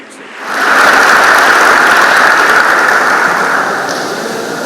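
Loud, dense applause from an academy audience at a topper's felicitation event, swelling quickly and holding steady for several seconds before tapering slightly.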